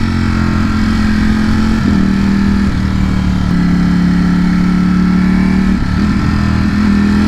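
Engine of a Ducati StreetFighter V4S motorcycle on the road, a loud, close, continuous rumble with pitch dips at quick gear shifts and blips, rising and settling as it rides along without talk.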